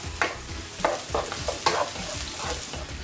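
Garlic frying in a pan while being stirred with a utensil, a steady close sizzle broken by several sharp scraping stirs at irregular intervals.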